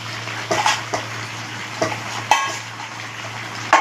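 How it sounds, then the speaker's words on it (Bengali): Fried fish heads drop into a pot of Malabar spinach cooking with liquid, giving several soft wet thuds and stirring knocks over a steady low background hum. "এবার আমি ভেজে রাখা মাছের মাথাগুলো দিয়ে দেবো প্রত্যেকে।"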